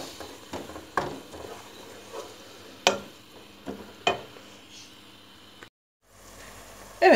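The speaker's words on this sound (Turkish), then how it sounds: "soğan yeterince kavruldu" Onions and two large spring onions sauté in a pan with a soft background sizzle, broken by occasional utensil knocks and scrapes, close, with a brief silent gap near the end.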